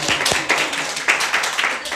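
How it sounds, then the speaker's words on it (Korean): Short burst of clapping from a church congregation during a Sunday service, irregular hand claps close by filling the two seconds with brief murmuring voices mixed in. "박수 한번 쳐주시길 바랍니다"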